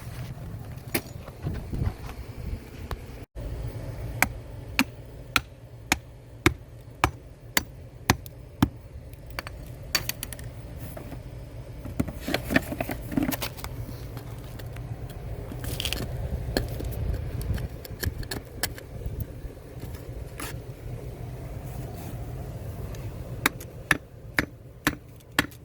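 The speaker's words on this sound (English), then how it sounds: "I put it in there, then I hammer it in." Sharp hammer blows land irregularly, some in quick runs and others spaced apart, as flooring pieces are driven under a sunken concrete sidewalk slab outdoors, over a low, steady background rumble with no talking.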